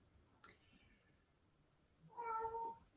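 A house cat gives one clear, fairly loud meow near the end, after a faint short chirp early on, over a quiet room with no talking.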